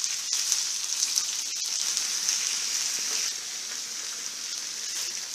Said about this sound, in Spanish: aquí tenemos ya sazonando, salcochando la cebolla